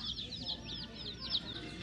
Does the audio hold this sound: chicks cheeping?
yes